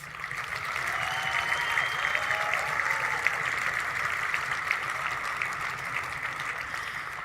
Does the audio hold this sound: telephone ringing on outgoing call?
no